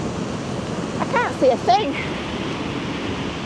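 Surf at an exceptionally high tide roars in a constant wash, with wind buffeting the microphone, while a person speaks briefly over it.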